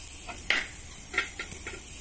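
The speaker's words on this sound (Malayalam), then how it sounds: "പിന്നെ ഒരു പാൻ വെച്ചിട്ടുണ്ട്, അതിലേക്ക് ഞാൻ ഓയിലാണ് ഒഴിച്ചു കൊടുത്തിട്ടുള്ളത്. പിന്നെ ഒരു സവാളയാണ് ചേർത്ത് കൊടുക്കുന്നത്." Sliced onion stirred in hot oil in a pan, a few scraping stirs and clinks over a soft steady sizzle, close and fairly quiet with no talking.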